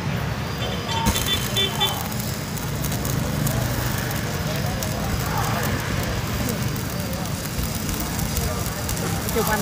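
Electric arc welding machine crackling steadily at close range while welding, a dense continuous hiss and spatter without pause, with a voice talking over it.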